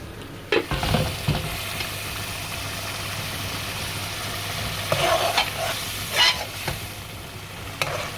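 Onion, garlic and spices frying in a pan for chicken roast, a continuous close sizzle broken by occasional stirring scrapes and utensil knocks, with no voices.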